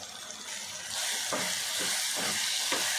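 Boiled chana dal stirred in a pot with chilli powder, salt and its cooking water for a gongura dish, giving wet, sloshing scrapes in a loose repeating rhythm over a low simmering hiss.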